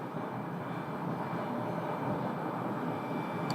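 A Cessna light aircraft on final approach to runway 21 at Scottsdale produces a steady, broad engine drone that holds at an even level throughout, heard at a distance with no talk.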